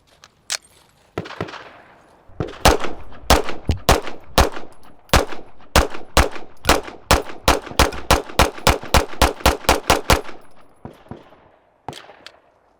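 Rapid string of sharp gunshots from an OA Defense 2311 pistol emptying a magazine, a few spaced shots then a fast steady volley of about twenty loud, close cracks, followed by a brief pause and one last shot.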